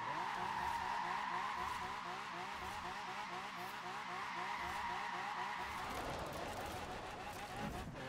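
Car skidding and wrecking in the racing game Forza Horizon 4, with a loud engine, long tire squeal and a rhythmic grinding scrape that shifts and fades toward the end.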